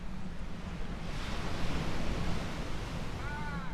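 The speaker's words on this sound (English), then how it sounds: "I wanted to do it next to the ocean" Ocean surf washes steadily against a beach in Mexico, a continuous close-up roar of breaking waves with some wind rumble and no clear pauses.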